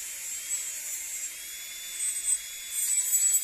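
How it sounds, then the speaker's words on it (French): A steady high-pitched electric nail sander whirs while shortening acrylic nail capsules, close and continuous, its pitch and loudness swelling slightly toward the end. "donc je raccourcis un petit peu avec la ponceuse"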